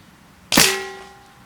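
Single sharp shot from a .22 caliber air gun during a magazine mod test. One loud close crack with a quick decaying ring, nothing else around it.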